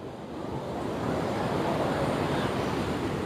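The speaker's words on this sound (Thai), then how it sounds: "ชายหาดขาว ๆ คลื่นสูงมากค่ะ" High waves, about one and a half metres, break onto a white-sand beach in a steady, dense rushing roar that swells slightly, with some wind buffeting the microphone.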